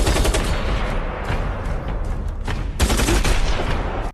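Gunfire rips through a movie shootout scene, rapid bursts of loud automatic shots that pause briefly and then resume in a dense, sustained barrage.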